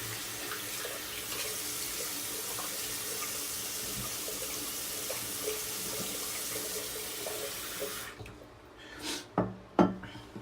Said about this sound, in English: we'll go ahead and throw some hot water down there, soften up the soap a little bit